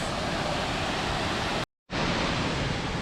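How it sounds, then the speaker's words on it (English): Loud, steady rushing water from Havasu Falls in Arizona pours continuously, a broad roaring wash that cuts out briefly for a moment before resuming. "I love to hear the water and see the pools at the top."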